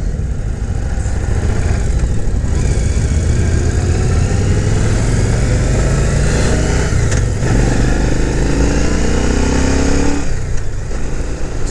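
A Harley-Davidson motorcycle rides a curving, hilly paved road, its engine droning loudly and continuously, rising and falling as the rider shifts and accelerates, with wind noise throughout.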